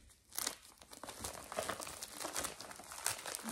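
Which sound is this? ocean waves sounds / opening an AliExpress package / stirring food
opening an AliExpress package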